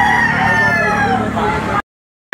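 A rooster crows loudly and close at a chicken auction market, a single strained call lasting under two seconds before cutting off, with faint voices in the background.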